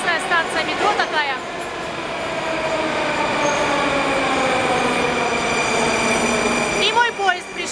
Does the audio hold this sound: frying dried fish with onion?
no